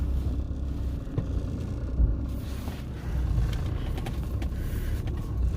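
Jaguar car rolling slowly up a sloped driveway, a steady low engine rumble and tyre noise from inside the vehicle, fairly loud and continuous.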